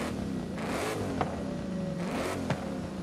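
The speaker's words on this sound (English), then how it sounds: "we got a supercharger in here, so it sounds like the real Terminator." A supercharged Ford Mustang Cobra with side exhaust revs in Forza Horizon 5, its engine climbing in two surges, each ending in a sharp shift crack, at a moderate level with no talking.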